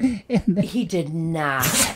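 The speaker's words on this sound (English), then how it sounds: "He had to sneeze." A man sneezes once partway through casual podcast banter, a short sharp burst close to the microphone amid ongoing talk.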